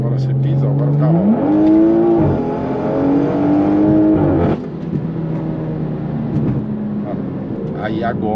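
A car switched into Sport mode with dynamic settings accelerates hard, its engine note climbing sharply, holding a high rev, then dropping through a shift and settling, loud and close with some talk mixed in.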